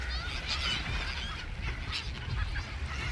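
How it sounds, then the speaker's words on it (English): A large flock of seabirds calls along a long beach in Yucatán, Mexico, a dense chorus of honking and squawking cries layered over steady surf and wind. "That's what all these birds are here for. There are like millions of them."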